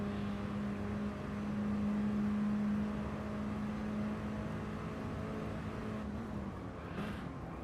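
Onboard engine note of a Mini Cooper Cup race car on track at Sardegna, a steady droning whine held at high revs, with a faint change toward the end as the car lifts.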